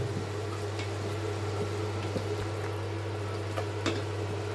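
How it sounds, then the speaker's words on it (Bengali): Beef tehari simmers in a pot as the meat cooks, a continuous low bubbling boil with a steady hum beneath and occasional small pops, close and even, with no talking. "মাংস হয় না এবার, এখনও কেবল বলক উঠছে"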